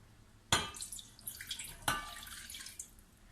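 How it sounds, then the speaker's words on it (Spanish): Two glasses of water poured into a cooking pot on the stove, two distinct splashing pours each starting with a sharp slosh and trailing off into bubbling gurgles, close and clear with no talk. "vamos a echar los 2 vasos de agua."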